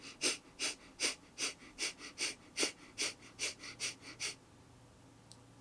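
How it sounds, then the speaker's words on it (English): Rapid breath of fire yoga breathing: about thirteen quick, forceful nasal exhales in an even, fast rhythm, close and clear, then quiet. "here is what the breath of fire is going to look like in real time"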